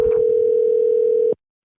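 A steady telephone dial tone hums at one pitch for over a second while a call is placed, then cuts off abruptly, with no talking.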